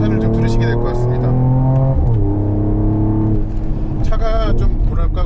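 A 2022 Mercedes-AMG GT43 4Matic Plus on a winding mountain road revs hard toward redline, its rising engine note stalling briefly at the fuel cut before settling. Loud and close, with a voice speaking near the end.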